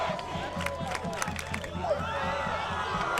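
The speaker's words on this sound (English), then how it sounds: "the crowd's getting into it" Spectators at a high school football game in Woburn cheer and shout, with rhythmic bursts of crowd noise rising and falling and voices talking over the din.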